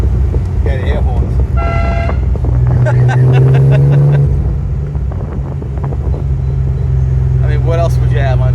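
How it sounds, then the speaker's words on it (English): Loud air horns on a 1974 Triumph TR6 blast several times, sustained tonal honks over its rumbling idling engine, with people talking nearby. "You gotta have the air horns."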